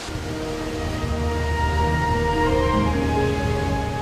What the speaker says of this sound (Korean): 최대 높이 80m, 세계 3대 폭포의 하나인 이과수 폭포는 규모에서는 세계 최대입니다.